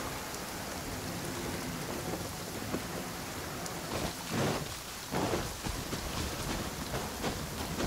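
Thunderstorm in Genshin Impact: steady heavy rain hiss throughout, with rolling thunder rumbles swelling around the middle and again shortly after, no voices.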